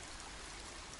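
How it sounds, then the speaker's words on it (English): A river flows steadily over its bed in a natural setting in Bulgaria, a brief, even, broadband rush of water without any talking. "Just listen to the water flowing amongst nature."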